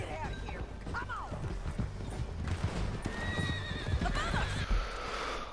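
Horse in the Red Dead Redemption 2 video game, with rhythmic hoof clip-clops and two high whinnies, under a voice, music and game effects.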